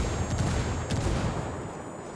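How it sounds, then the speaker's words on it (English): Rapid gunfire exchange during a competitive Ghost War match, dense overlapping shots crackling steadily throughout with a few sharper bursts, loud and close with no talking. "Here we go, immediately taking shots. Getting shot back though."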